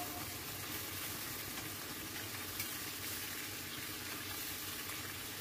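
Chicken pieces deep frying in hot oil, a steady, dense hiss and crackle of sizzling that holds evenly close up for the whole stretch, with no talking.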